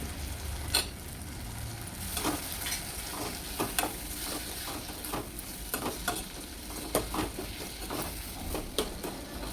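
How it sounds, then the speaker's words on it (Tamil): Onion and tomato with salt and turmeric sautéing in a pan, an even sizzle punctuated by frequent spoon scrapes and stirs, close and moderately loud, with no voices. "இந்த உப்பு மஞ்சத்தூளை நம்ம வெங்காயம் தக்காளியோடு சேர்த்து நல்லா வதக்கிக்கணும்."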